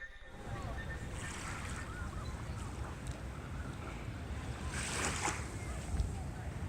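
Ocean surf rolls onto the Jersey Shore in a steady, continuous wash, with wind buffeting the microphone and a few louder swells rising and fading.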